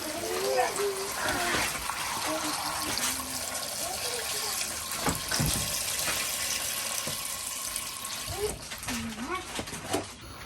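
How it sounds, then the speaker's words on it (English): Water runs from a tap into a cooking pot being filled for a vegetable stew on the stove, a steady broadband rush lasting throughout, with a voice speaking over it at times. "I'm just going to fill it with water"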